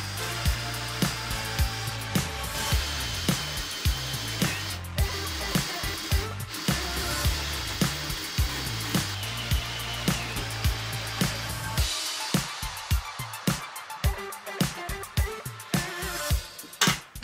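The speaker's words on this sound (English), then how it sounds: "start with a pilot hole and then a 38mm hole cutter" A 38mm hole cutter bores an air-supply hole while a home metal-melting furnace is being built. A loud, steady power-drill whine carries regular rasping knocks, then ends in a run of sharp scraping clicks.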